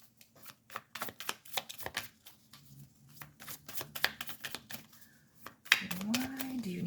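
A tarot card deck is shuffled close up in a quick series of crisp riffling bursts and taps, followed by a brief voice near the end.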